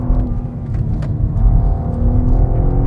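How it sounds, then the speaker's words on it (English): A rear-wheel drive car on a race track braking hard, its engine note rumbling and whirring as speed drops; a steady, loud, close in-car drone with no voices. "You need to brake quite hard."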